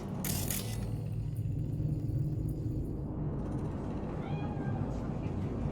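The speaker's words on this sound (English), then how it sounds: "Fine-looking feline." A cat meowing in the city streets of the video game Cyberpunk 2077, a short meow heard over a low ambient rumble, with a character talking nearby.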